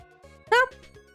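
A pet cat gives one loud, clear meow at close range, set against a quiet indoor background with faint shuffling around it.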